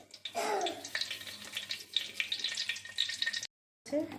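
A single bay leaf dropped into hot oil in a karahi already tempered with cumin seeds sizzles steadily up close, with a brief louder crackle at the start and a short silent gap near the end.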